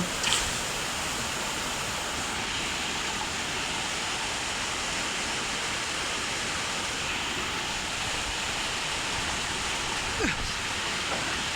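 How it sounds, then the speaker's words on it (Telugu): Darakonda waterfall roars as a steady, dense rush of falling water heard close, constant throughout with a couple of faint knocks. "చూడండి ఫ్రెండ్స్ చివరికి అయితే జలపాతం దగ్గర వచ్చాము చూడండి"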